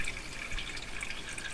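Water flows steadily through reverse osmosis filter lines under a sink, a soft continuous hiss and trickle heard close by at low level, with faint drips.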